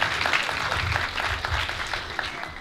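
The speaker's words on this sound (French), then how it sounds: "Ça s'applaudit plus fort." A youth audience at a political rally in Yopougon, Côte d'Ivoire, claps steadily in a dense, sustained burst of applause with no speech over it.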